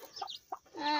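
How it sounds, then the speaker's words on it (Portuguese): A broody hen hatching chicks gives a few soft, close clucks and low murmuring calls in short, separate bursts, with a faint squeak near the end. "vocês têm que olhar quando a galinha tá chocando"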